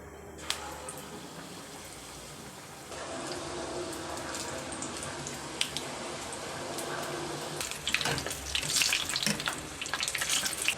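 Egg bonda, eggs coated in batter, frying in hot oil gives a low, bubbling sizzle that swells louder partway through, with occasional clinks and wet crackles of the pieces being turned.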